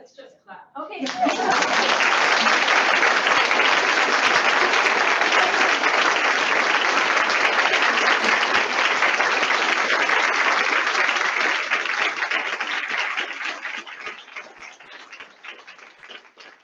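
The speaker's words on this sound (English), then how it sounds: "Let's just clap." Audience applause at an academic conference swells quickly into a dense, sustained wash of clapping that holds loud and steady for over ten seconds, then thins and fades out near the end.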